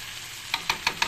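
Spice paste frying in a pan for a potato and pointed gourd curry: a low steady sizzle broken by four quick evenly spaced scraping strokes of a spatula near the end.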